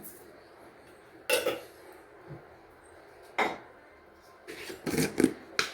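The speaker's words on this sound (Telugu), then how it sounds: "ఇదిగోండి ఒక స్పూన్ సాల్ట్ వేస్తున్నాను" Spoon taps and scrapes against a bowl while salt goes into a snack mixture of corn flakes, a few sharp clinks spaced apart then a quick cluster of clatters near the end.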